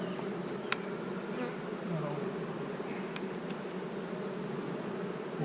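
Honeybees buzz loudly and steadily inside a hot, crowded beehive during a mite-treatment check, a dense close drone that holds without pause, with a few faint higher clicks on top and no talk.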